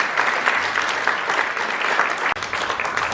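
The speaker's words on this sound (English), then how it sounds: "another round of applause for you who helped" An audience at a magic and mind-reading stage show applauds steadily, a dense, even wash of clapping that carries on alone and briefly dips near the end.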